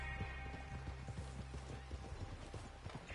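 Horse hooves clip-clopping in Red Dead Redemption 2, a steady run of soft, close hoofbeats over a low ambient bed of game music and atmosphere, with no talking.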